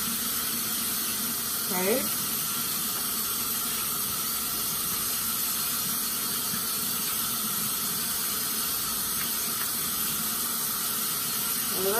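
Tap water runs steadily into a sink while hands are washed during a pharmacy compounding skill check, a continuous soft hiss and splash that stays under a speaking voice.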